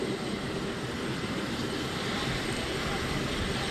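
Aircraft engines of Air Force One and Marine One roaring steadily at an airport in Kahului, Maui, a loud continuous drone filling the whole moment with no break.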